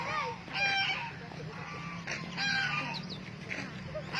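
Geese honk repeatedly nearby in short, nasal calls that overlap with other fowl at a farmyard with ducks, over a low steady background.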